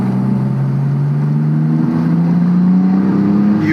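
Mitsubishi Legnum VR-4 wagon with a twin-turbo V6 pulling hard under acceleration, a loud droning engine note rising steadily in pitch through a gear, heard from inside the car with no talking.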